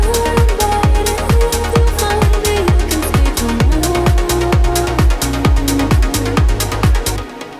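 Piano stabs drive the verse of a remix of a song, short chordal hits landing over a punchy kick with deep sub-bass, a loud, steady groove with no voices.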